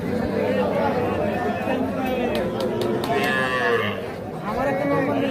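Bull calves and cattle mooing at a busy cattle market, several calls rising over a steady crowd hubbub with people chattering close by throughout.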